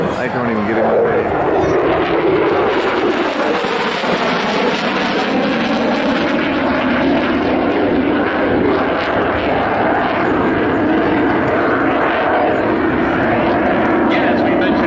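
A Boeing EA-18G Growler jet roars past at a Michigan air show, a loud, sustained broadband rush that swells and holds, with a commentator talking over it.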